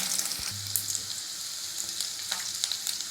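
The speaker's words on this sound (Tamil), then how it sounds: "இது கடுகு பொரிஞ்ச பிறகு பூண்டு போட்டுக்கோங்க. பூண்டு நல்லா பொன்னிறமாகட்டும்." Garlic fries in hot oil with popped mustard seeds for a Tamil-style lemon rice. A dense, even sizzle runs throughout with a few faint pops and light stirring, close and moderately quiet.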